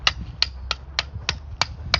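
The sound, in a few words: rock hammer striking rock while building a crevice garden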